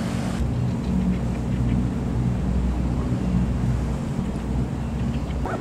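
A boat navigates the winding meanders of the Doubs river with a steady low engine drone and rushing water and wind noise throughout.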